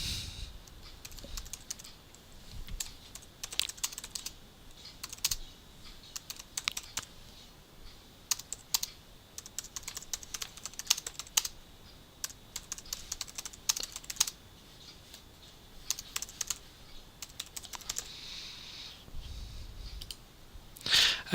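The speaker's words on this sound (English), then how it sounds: "we would type our text into the main window as we were creating a normal document" Someone types text on a computer keyboard with fast, irregular bursts of crisp key clicks and short pauses between them, recorded up close with no one talking.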